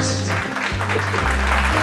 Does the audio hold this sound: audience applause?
yes